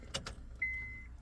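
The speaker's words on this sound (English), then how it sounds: "And roll up my window." A power window on an old car rolls up inside the cabin, giving one steady motor whine of about half a second after a couple of faint clicks, heard close and alone.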